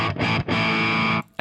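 Electric guitar played through an amp sim plugin, re-amped via a Boss Katana setup: a loud, heavily distorted sustained chord, briefly choked twice, then cut off and struck again.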